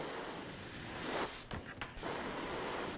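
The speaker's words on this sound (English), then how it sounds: "I'll do a lot of what I call air spraying" Steady hissing airbrush paint spray runs almost the whole time, cutting out briefly in the middle before resuming, close and fairly loud.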